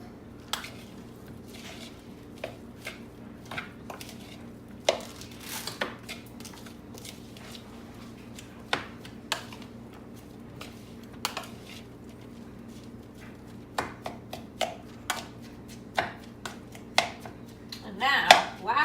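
Tuna melt filling with black pepper is mixed in a bowl, giving a series of scattered clinks and scrapes of a utensil against the dish. The strokes come in irregular bursts over a quiet background.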